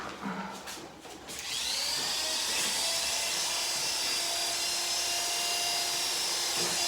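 Electric grooming clippers buzz steadily at close range as they shave the back leg of a Miniature Australian Shepherd, a constant high whine after a few seconds of quieter handling noise.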